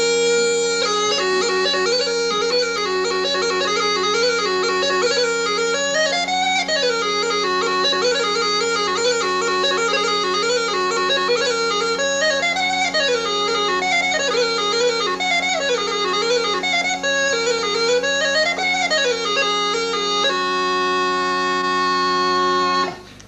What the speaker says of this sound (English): Now that's the sound of the Northumbrian pipes.